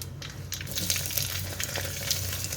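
Mustard seeds, cumin, urad dal, dried red chillies and curry leaves frying in oil for a bottle gourd curry, making a dense, steady crackling sizzle with small pops throughout.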